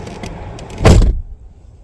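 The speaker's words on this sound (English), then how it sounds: "Locks will again cycle to indicate end of programming mode." Door locks cycling on a 2004-2015 Ford Explorer: a single quick mechanical clunk of the lock actuators, loud and close, with quiet cabin background before and after.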